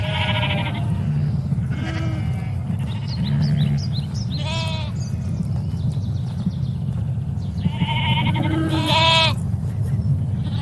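Sheep in a field, including a couple of black sheep, give several wavering bleats, some near and some farther off, over a steady low rumbling background.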